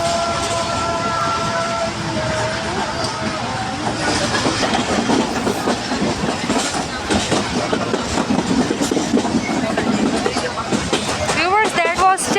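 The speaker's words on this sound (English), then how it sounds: "now again the train is on its speed that is high comparatively to the previous speed" A passenger train near Chak Jhamra junction bound for Lahore runs at high speed, its steady rumble and rhythmic clickety-clack filling the cabin continuously, with a brief squealing rise near the end and people talking under the noise.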